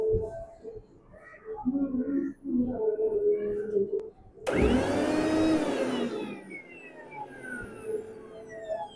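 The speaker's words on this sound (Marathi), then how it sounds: "आता मिक्सर मध्ये थोडी अद्रक" A mixer grinder grinds ginger, garlic and green chillies in a loud, whirring burst that starts abruptly partway through, after a stretch of talking, then winds down.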